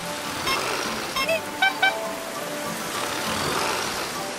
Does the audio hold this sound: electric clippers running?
no